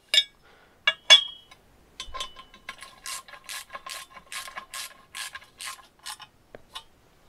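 A ratchet tightens the bolts on a Moskvich cylinder head cover with a run of crisp, evenly spaced clicks. A few louder metallic clinks come first, all close up and with no voices.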